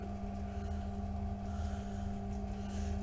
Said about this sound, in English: It's taking a while to pump the water out of there.